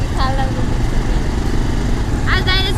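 A motorcycle rides along a potholed road in Jhapa, Nepal, with a steady, rough engine drone from start to finish. A couple of brief higher tonal bursts stand out over the engine.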